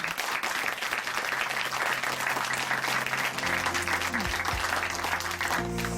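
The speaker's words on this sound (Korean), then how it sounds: "다시 한번 큰 박수 보내드릴게요" A church congregation at a testimony program gives warm, steady applause, many hands clapping evenly and fairly close, while a low sustained musical tone rises and shifts underneath toward the end.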